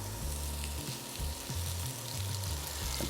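Buttered sandwich sizzling steadily on the griddle of an induction cooker, a close, continuous frying hiss with low hum underneath and no voices.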